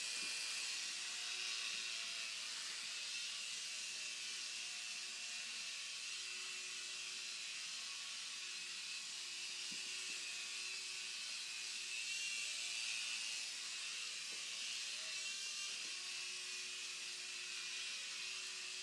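An Air Hogs Havoc Heli toy helicopter flies with a steady, high, whirring whine from its small rotor motor, held near and continuous throughout with slight wavering and no voices.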